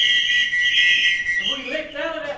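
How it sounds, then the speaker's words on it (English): Officers' whistles blown during a staged war play about ANZAC troops in trench combat: a loud, sustained shrill whistle tone holding steady, then shifting and fading under other sounds near the end. "the officers blew their whistles"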